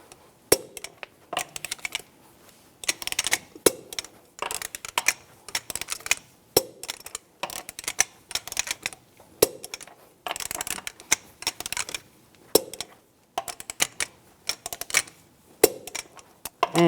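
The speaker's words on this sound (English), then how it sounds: "Now I'm going to torque the lug nuts to 100 foot-pounds in a cross pattern to tighten the wheel down evenly." A torque wrench tightens the lug nuts on a 2003-2005 Chevrolet Trailblazer wheel to 100 foot-pounds in a cross pattern, giving close, sharp ratcheting clicks in repeated short bursts with brief pauses between nuts.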